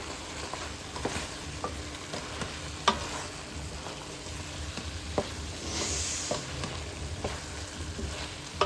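A spoon stirs spiced chicken fry, coated in chilli powder, around a hot pan with a soft, steady sizzle and irregular scraping clicks, faint and close, with no voices.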